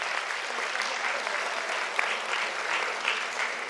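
An audience at a panel event applauds steadily, a dense even patter of many hands clapping throughout with no voices standing out.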